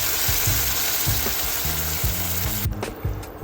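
Green chilies and tomato puree in hot oil with cumin seeds, steady loud sizzling and crackling with soft stirring knocks from a spoon running underneath.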